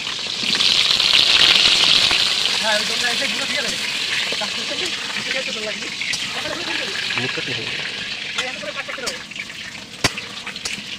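Potato pieces fry in hot oil in a pan at an outdoor picnic, making a loud, dense, steady sizzle that crackles and bubbles throughout, with a voice talking over it.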